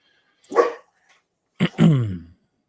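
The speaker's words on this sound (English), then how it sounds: "He just woke up and barked." A dog lets out a sudden bark right after waking from a bad dream, followed a moment later by a longer, whining bark-like yelp; two close, fairly loud bursts separated by silence, with no talk.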